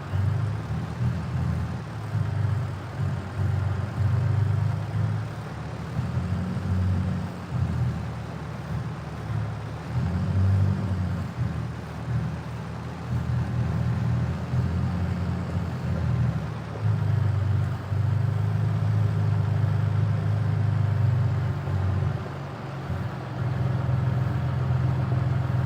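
A farm tractor engine drones steadily and loudly at close range during double-crop soybean planting, a low rumbling hum that pulses slightly in load throughout, with no voices.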